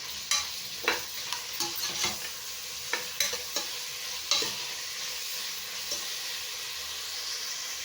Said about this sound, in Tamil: ஹை ஃப்ளேமில் வச்சு நல்லா வதக்கி விட்டுக்கலாம்.